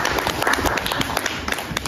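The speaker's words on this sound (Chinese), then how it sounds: "掌声有请。" Dense applause from an audience at an award ceremony, steady crackling claps filling the whole moment without a break, fairly loud and close.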